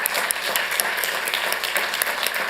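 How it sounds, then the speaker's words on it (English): Applause breaks out in a council chamber as canine police officers are welcomed, a moderately loud spread of clapping with a few sharper individual claps standing out. "Let's give them a round of applause,"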